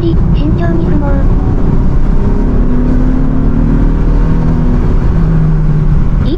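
A Nissan Z34 drives on a rainy urban expressway after a downshift to third gear. Its engine drones steadily and loudly, pitch rising gradually as it revs, under constant road and rain noise.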